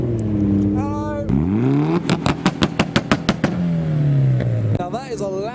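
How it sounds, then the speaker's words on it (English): A Nissan Skyline R34 GTR idles loudly in a slow convoy of cars entering the JapFest 2022 show, its deep engine note wavering and throwing a rapid series of sharp popping bangs up close. "Now that is a loud idle from the R34 GTR"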